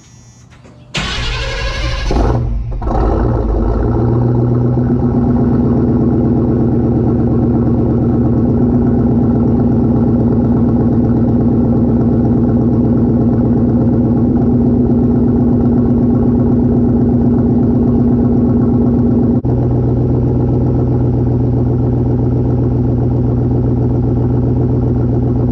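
A pickup truck with a 2.5 inch straight pipe exhaust cranks over and fires up. It then settles into a loud, steady, rumbling idle heard close by, with a slight shift in tone partway through.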